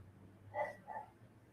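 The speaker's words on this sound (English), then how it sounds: "he did kind of bark on command" A dog gives two short, faint barks, the first around the middle and a softer one just after, over a low steady background hum.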